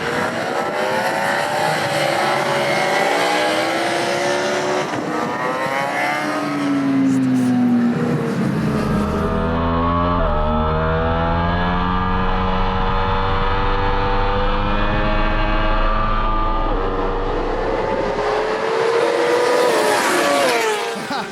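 A motorcycle at full power on a race track screams through rising and falling revs as it shifts gears, loud and close, with a deep low drone through the middle stretch.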